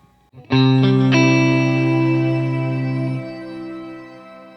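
Guitar chord through the stock ambient reverb of a Fender Tone Master Pro, struck a few times in quick succession, then a lush shimmering wash that sustains and gradually fades, loud and close with no talking.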